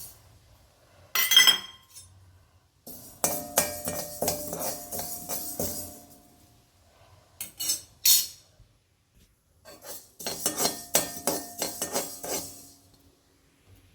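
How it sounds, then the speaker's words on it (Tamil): Mustard seeds and fenugreek dry-roasted in an empty iron pan, heard as several separate bursts of crisp rattling and clinking with quiet gaps between them. "இப்போ கடுகு, வெந்தயம் போட்டு நல்லா வறுத்துக்கிறணும்"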